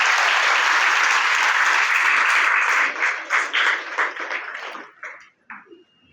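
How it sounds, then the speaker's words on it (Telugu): An audience applauds the centre's teachers with a loud, dense burst of clapping that holds steady, then breaks into scattered claps and fades out. "వాళ్ళందరికీ ఒక పెద్ద క్లాప్స్ కొట్టి వాళ్ళని అభినందిస్తాం"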